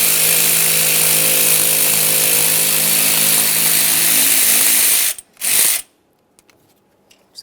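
A power ratchet buzzes loudly and continuously for about five seconds while removing the 10mm nut holding the alternator power wire on a 1994-2001 Dodge Ram 1500, followed by a brief second burst, then quiet clinks.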